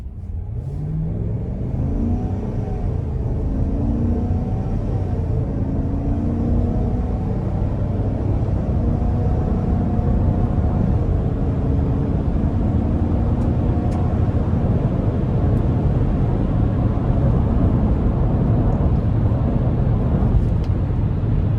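A 2025 Chevrolet Tahoe Z71 with a 5.3 V8 and 10-speed automatic pulls away under moderate throttle, its engine note climbing through several gear shifts over a steady cabin rumble and road noise.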